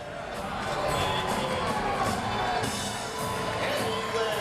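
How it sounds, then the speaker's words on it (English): Election-night crowd at Rick Lazio's New York Senate race headquarters in 2000 letting out a sustained roar of cheering and shouting, loud and dense throughout with no clear speech. "a big roar went up in this crowd"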